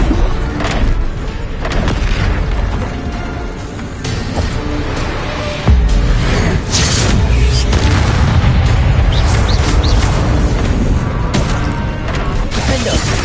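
Bombarda explosion spell in Hogwarts Legacy, loud booming blasts and crashing impacts amid dense game combat noise, with a sharp heavy burst about halfway through followed by sustained rumbling.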